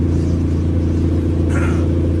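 A loud, constant low engine rumble from inside a moving truck, steady and droning throughout.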